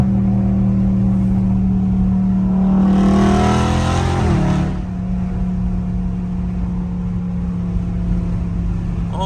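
A Dodge Scat Pack downshifts in traffic, its engine blipping into a loud, rising rev burst for about two seconds before settling back to a steady low idle hum, recorded close from inside the car with wind noise.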